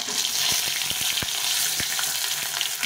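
Dried red chillies, bay leaves and five-spice seeds are dropped into hot oil and sizzle with a steady, fairly quiet hiss. A few sharp pops and crackles break through it.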